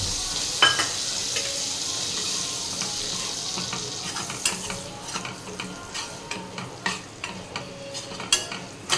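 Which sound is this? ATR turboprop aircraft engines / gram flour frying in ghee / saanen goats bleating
gram flour frying in ghee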